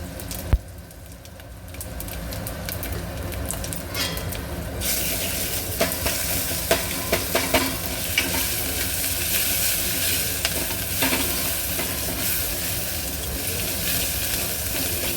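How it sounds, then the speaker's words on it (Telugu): Ginger garlic paste fries in hot oil with turmeric and asafoetida, giving a continuous close sizzle, with a few sharp clinks of a spoon stirring the pan. "కొంచెం పచ్చివాసన పోయేంతసేపు వేయించాలండి అల్లం వెల్లిపాయ పేస్టు."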